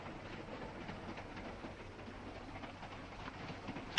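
A train runs on rails in a 1943 Sherlock Holmes film, giving a steady, fairly quiet rumble and rattle that continues evenly throughout with no talk.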